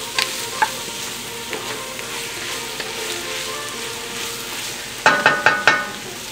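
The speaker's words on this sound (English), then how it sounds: "going to help cook down those vegetables and get all the liquids out." Salted vegetables for a Creole vegetarian gumbo cook down in a pot, giving a soft continuous sizzle with a few light scrapes and a closing burst of four quick utensil taps on the pot.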